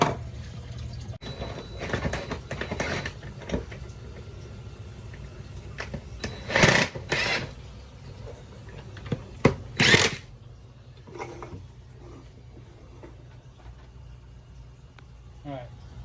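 Clips are screwed onto PVC pipe with a powered driver, giving a couple of short whirring bursts amid handling clatter and rustle, with talking through much of it.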